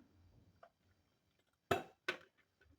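Freshly washed dishes are handled while being dried and put away in a home kitchen: two sharp, close clinks of crockery stand out against near silence, with a few faint taps before them.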